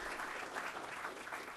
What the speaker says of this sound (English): let's applaud them for being brief